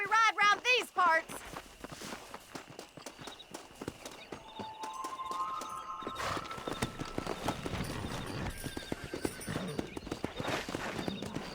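Horses gallop in the video game Red Dead Redemption, with rapid hoofbeat clip-clop that builds and continues under a voice, game music and shouts.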